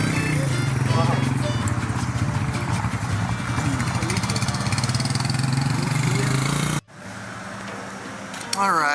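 A motorcycle idling on a Baja trip, a steady mid-pitched engine chug with a rhythmic beat running continuously before cutting off abruptly, followed by quieter background noise.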